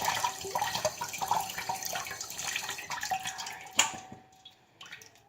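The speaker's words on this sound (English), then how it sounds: "rinse it under the cold water here until the water's running clear" A kitchen tap runs steadily cold water into a sink, splashing and dripping as butter is rinsed under it, with a clunk near the end.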